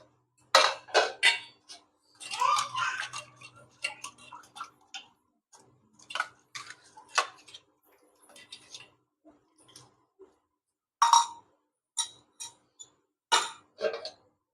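Scrubbed dishes and a plate are rinsed and handled at a sink, giving sharp intermittent clinks and clatters of tableware with short quiet gaps between bursts, moderately close.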